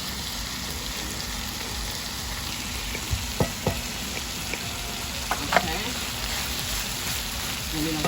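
Chicken and onions sauté in a pan with a steady, moderately loud frying hiss, punctuated by occasional spatula taps against the pan.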